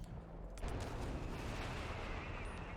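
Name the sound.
mortar fire in video game Company of Heroes 3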